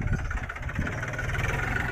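A Jivo 365 DI 4WD tractor runs with a rotavator, its diesel engine giving a steady, close mid-pitched chug with a throbbing pulse and no talk over it.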